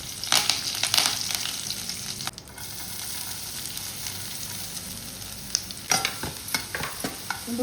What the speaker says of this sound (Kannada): ಈಗ ಪಾಪ್ಲೆಟ್ ಮಸಾಲ ಫ್ರೈ ಮಾಡ್ತೇನೆ.